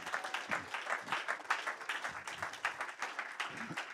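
A church congregation claps along in a steady rhythm, the applause dense and continuous, with voices chanting or singing amid it throughout.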